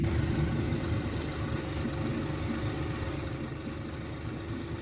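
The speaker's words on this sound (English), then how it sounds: "The engine's running beautifully." A new DT25 diesel engine runs aboard the classic sailboat Stormdancer, a steady low rumbling drone with even mechanical clatter, close and continuous throughout with no talk.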